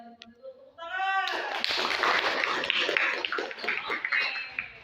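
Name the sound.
audience applause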